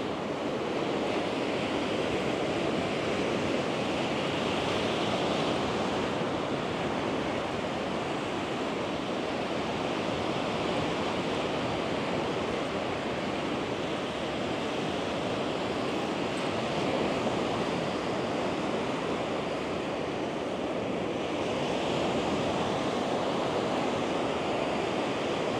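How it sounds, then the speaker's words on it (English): Strong wind on a beach at Malia, Crete, a continuous loud roaring rush mixed with surf-like noise and microphone buffeting, unbroken throughout with no voices. "it's quite windy today"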